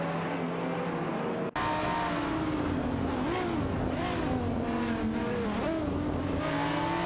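Video game racing cars, a Dodge Viper GT2 and a Ferrari F430 GTC, snarl at sustained high revs after an abrupt cut, with pitch swooping up and down through shifts and overlapping engines close together.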